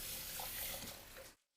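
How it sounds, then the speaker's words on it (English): Water poured from a tap into a cooking pan of sauce for classic Italian meatballs: a steady close rushing pour of about a second and a half that cuts off abruptly, with no talking. "I'll add a good splash of water in here."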